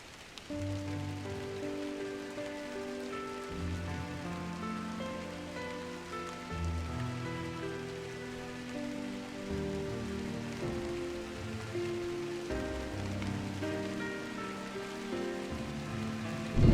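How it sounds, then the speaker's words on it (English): Light drizzle falls in the Drizzlepath: Genie video game at early dawn, a steady soft patter of rain on surfaces heard throughout, mixed with a sustained melodic musical score. "Thus, I woke to a morning of light drizzle"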